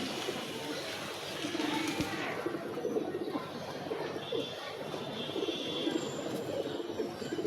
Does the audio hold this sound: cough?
no